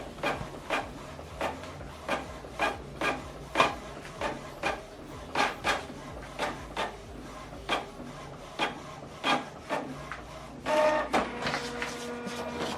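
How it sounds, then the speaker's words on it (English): A Canon printer prints a document double-sided, feeding the page back through for the second side: a rhythmic series of close mechanical clicks and thumps roughly every half second, then a busier whirring rattle near the end. "Now see that it's going back in for us to print double-sided."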